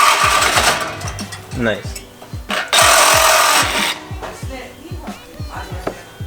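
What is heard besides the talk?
power tool cutting BMW F30 exhaust for muffler delete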